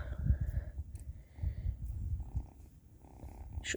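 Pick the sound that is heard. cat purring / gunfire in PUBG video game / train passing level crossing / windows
cat purring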